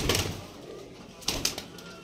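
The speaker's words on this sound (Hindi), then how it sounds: "सभी कबूतर बेहतरीन, सारे कलसरे फुलसरे कबूतर हैं" Faint cooing from Kalsire Fulsire pigeons kept for sale, soft and low against a quiet background, with a few brief sharper bursts near the middle.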